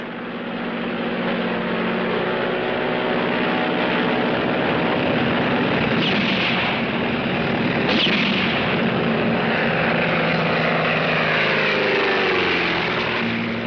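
A loud propeller aircraft engine roars steadily and close, its pitch shifting as the plane swoops low and then climbs away.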